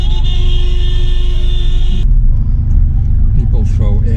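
Road traffic in a jam near Harare, Zimbabwe: a steady engine rumble from cars and motor vehicles close by, with a sustained tonal whine through the first half, then mixed vehicle noise and a brief horn toot amid talk.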